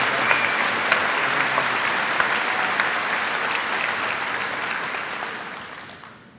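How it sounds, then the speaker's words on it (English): A large commencement audience applauds the valedictorian at a 2015 high school graduation ceremony, dense sustained clapping throughout that fades toward the end. "please join me in recognizing him with a round of applause"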